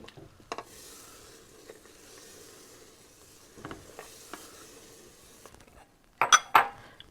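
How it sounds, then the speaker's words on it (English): Grits being stirred into a reduced-heat pot of water for a pottage, quiet spoon scrapes against the pot with soft sloshing, then a burst of louder clanking near the end. "so I'm going to reduce the heat, and I'm going to stir in our 2 cups of grits."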